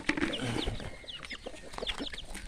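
Chickens, both grown birds and young chicks, cluck and chirp busily at feeding time on a farm, with a dense overlapping chorus of short calls close by and no speech.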